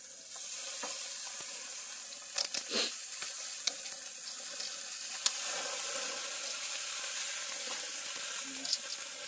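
Lamb chop and pork belly sizzle in a hot pan with a continuous bright hiss and scattered crackles and pops. A few louder clatters of cooking utensils break through now and then.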